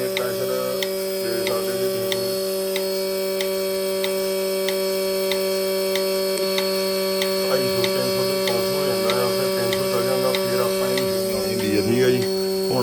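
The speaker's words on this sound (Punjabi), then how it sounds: "ਮਸ਼ੀਨ ਦਿੱਤੀ ਆ ਆਪਾਂ ਲਾ ਤੇ ਦੁੱਧ ਆਉਣਾ ਹੋ ਗਿਆ ਸ਼ੁਰੂ" A dairy milking machine running on cows makes a steady, loud electric hum with a constant drone, and a voice talks faintly over it in the later part.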